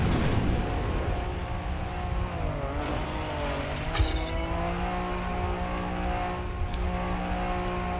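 A rally car in the Trackmania racing game drives on a plastic surface, its engine droning steadily and loudly with pitch sweeps as it revs, plus brief tire squeals, and no talking.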